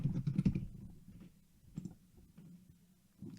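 A few bursts of computer keyboard typing while entering a search term, a quick cluster of keystrokes at the start followed by sparser, softer taps, fairly close and quiet with no talking.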